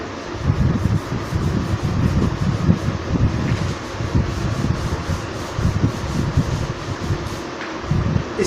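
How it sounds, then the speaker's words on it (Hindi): An eraser rubs steadily back and forth over a pencil construction drawing on paper, a continuous close scratchy scrubbing that stays loud and even throughout. "तो चलिए रब करते हैं इसको।"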